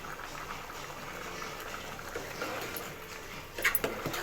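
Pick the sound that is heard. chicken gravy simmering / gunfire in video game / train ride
chicken gravy simmering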